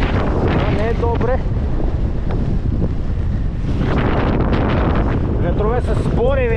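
Strong wind buffets the microphone in a loud, continuous roar during a winter enduro ride, with speech-like voices rising briefly over the rumble.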